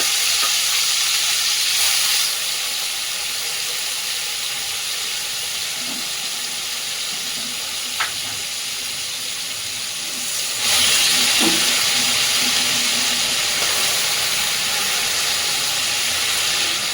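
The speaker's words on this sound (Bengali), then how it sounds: "এবারে আমি ছোটো চিংড়ি মাছগুলো ভাজা করে নিচ্ছি হালকা।" Small shrimp lightly frying in oil: a continuous, close, hissing sizzle that holds steady for a long stretch and swells louder near the end, with occasional faint clinks.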